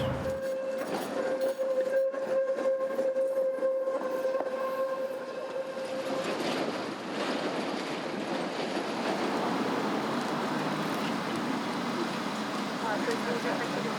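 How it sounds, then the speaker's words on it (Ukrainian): A number 20 tram rolls along city rails in Kharkiv, a loud continuous rumble and rattling of wheels with a steady tonal whine at first, then broadening into a noisy passing roar. "20-й трамвай вже я бачу, ходить"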